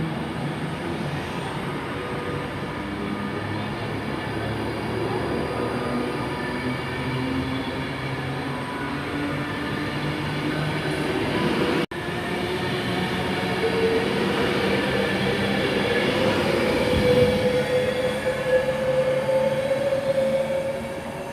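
A Class 390 train departs Coventry station with a steady rolling rumble, rising in level partway through as a squealing tone from the wheels or traction joins in, continuous and fairly close.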